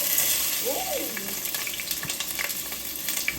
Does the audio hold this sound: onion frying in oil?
yes